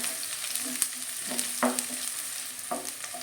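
Chopped shallots and curry leaves sautéing in oil, a bright continuous sizzle with a few sharper scraping stirs cutting through, close and fairly loud.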